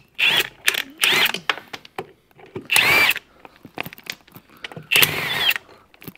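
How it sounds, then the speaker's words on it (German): Power drill boring into material during work on an IHC 844 tractor being split apart in a workshop, several loud bursts of whining drilling separated by short pauses, close to the microphone. "bohren wir mal an jetzt."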